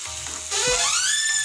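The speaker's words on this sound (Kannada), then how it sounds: "ಇನ್ನೊಂದು 2 ನಿಮಿಷ ಹಾಗೆ ಪೈನಾಪಲ್ಲು ಹುಣಸೆ ರಸದಲ್ಲಿ ಕುತ್ಕೊಳ್ಳಿ" Pineapple fries and simmers in tamarind juice for wedding-style gojju, starting with a quiet bubble and jumping to a loud, bright sizzle halfway through the short clip.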